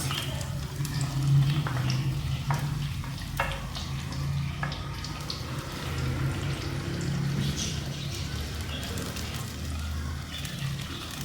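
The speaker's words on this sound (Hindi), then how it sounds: "घी हमारा गर्म हो चुका है। इसमें हम डालेंगे ये 4 कटी हुई प्याज" Four chopped onions frying in hot ghee for a mutton korma, giving a steady, close sizzle and crackle with faint utensil scrapes throughout.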